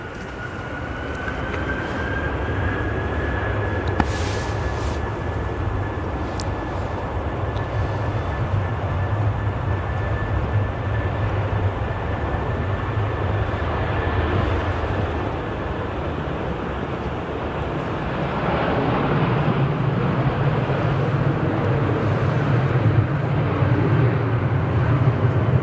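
Airplane taxiing at Manchester Airport, a steady distant engine roar with a thin high whine holding for the full length, swelling slightly louder toward the end, heard outdoors without talk.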